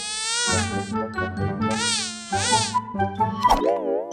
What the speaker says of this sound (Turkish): Böyle gürültülü uçmaya devam ederse ben uyuyamam ki.